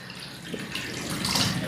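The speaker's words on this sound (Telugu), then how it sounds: "ఇలా వాటర్ పోసినప్పుడు వెంటనే వాటర్ మెయిన్ డ్రైన్లోకి వెళ్ళిపోతూ ఉంటాయి" Water poured into a kitchen sink rushes steadily down the drain in a soft, close, continuous wash, with no voices.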